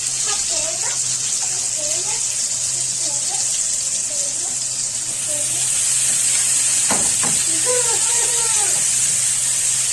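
Onions sizzle steadily in hot oil in a pan, a constant frying hiss that gets louder partway through, with a person talking over it throughout.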